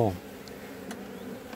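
A honeybee colony buzzes during a hive inspection, a steady close hum of many bees with a few louder passing wingbeats.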